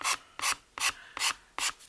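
Five rhythmic rasping strokes of a file scraping lifting paper off the edge of a board book, evenly spaced, close and fairly quiet.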